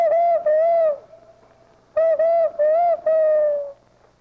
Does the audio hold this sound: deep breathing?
no